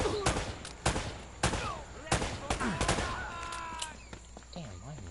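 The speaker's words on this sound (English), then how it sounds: "They're shooting at you too, you know." Gunfire in the video game Uncharted: a series of sharp, loud shots spaced about half a second apart, with quieter ricochets and background game effects between them.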